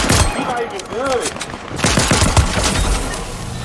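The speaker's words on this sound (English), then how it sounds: "This weak ass shotgun." Shotgun fire in an online shooter video game, with a loud burst of booming shots and rapid gunfire clustered together, dense and near, over busy game noise.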